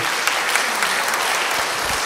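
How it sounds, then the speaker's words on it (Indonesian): Church congregation applauding after a baptism, dense steady clapping filling the whole moment at close range with no voices over it. "Beri tepuk tangan bagi dia."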